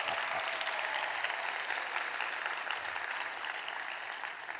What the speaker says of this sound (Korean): 우리 목사님께 우리와 같은 박수 한번 부탁합니다.